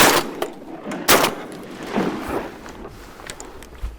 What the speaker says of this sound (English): I got one with the first shot, missed the second, and Blair got one with his shot.